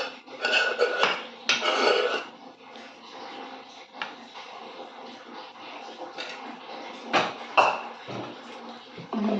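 Curry being served into a tiffin box with close metal clatter: bright clinks and scrapes of pots, utensils and dishes in several irregular bursts, loud at first and again near the end.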